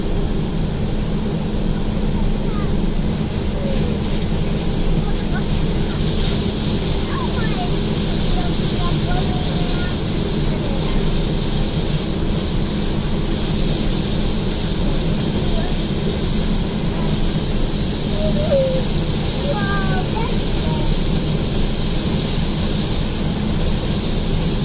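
A New Holland combine harvester runs with a constant loud droning roar during a corn harvest test run, with faint intermittent voices beneath the steady machine noise.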